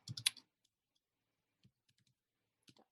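Quiet, sparse computer keyboard keystrokes while a script is written: a quick cluster of clicks at first, then a few isolated taps spread out over near silence.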